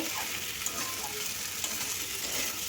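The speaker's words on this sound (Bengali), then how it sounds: "ভেজে রাখা আলু পেঁপে দিয়ে ভালো করে মশলার সঙ্গে কষিয়ে নেব সবজিকে" Fried potato and papaya pieces sizzle with spices in a pan, giving a steady close frying hiss with small crackles and faint stirring, and no voices.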